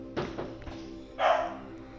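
A pet dog named Tilly gives a couple of quick barks nearby, then one louder bark a moment later, over a steady background hum.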